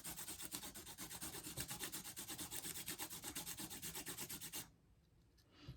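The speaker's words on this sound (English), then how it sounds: "I'm rotating this back and forth as I'm sanding" Steady rhythmic rasping of a pastel pencil tip sanded back and forth on sandpaper, close and even, stopping abruptly near the end into near silence.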